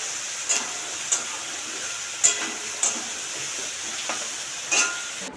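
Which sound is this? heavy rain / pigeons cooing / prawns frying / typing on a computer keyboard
prawns frying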